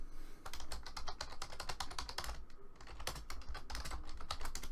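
Typing on a computer keyboard in a league esports match setting, a steady rapid patter of key clicks sounding close and continuous, with no voices.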